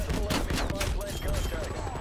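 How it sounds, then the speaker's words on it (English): Rapid bursts of shotgun and gunfire in the video game Call of Duty: Black Ops Cold War on the Nuketown map crackle continuously, with dense overlapping shots at a fairly loud, steady level. "so much gunfire"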